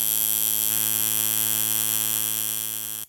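A tattoo machine running after its setting screw is adjusted, giving a steady, loud, even buzz with a clean tone that holds for about three seconds and then stops.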